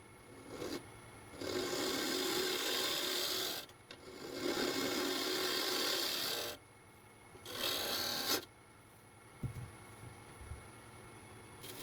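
A wood lathe turns an old floorboard bowl while a tool cuts a recess into its base, giving rough rasping bursts of several seconds each, separated by short pauses, close and fairly loud with no talking.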